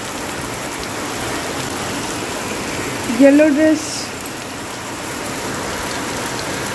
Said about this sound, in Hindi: अभी इतनी तेज बारिश हो रही है।